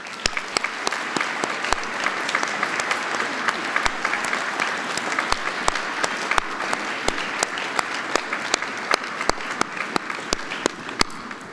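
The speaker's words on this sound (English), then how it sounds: "Could I ask them all to please stand so we could give them a round of applause?" Round of applause for parents standing at a spring all-school assembly, a dense crowd clapping steadily for about eleven seconds, fairly loud with no speech over it.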